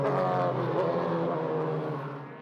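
DTM touring race cars at full speed at Zandvoort in 2001, a loud, sustained engine roar with harmonic whine passing close by, then gradually fading as the cars pull away.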